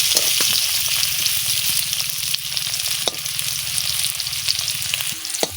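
Small potatoes frying in oil with turmeric and salt, a steady close sizzle with occasional stirring scrapes and light clicks of a utensil, no speech.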